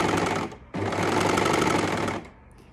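A cover stitch sewing machine running in a steady rapid mechanical chatter for about two seconds, with a brief start before it and a stop at the end.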